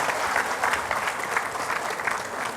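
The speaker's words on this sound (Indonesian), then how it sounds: "Tepuk tangan boleh semua." Studio audience applause greeting a guest on an Indonesian talk show, loud and continuous clapping from many hands with a lively, slightly rhythmic texture.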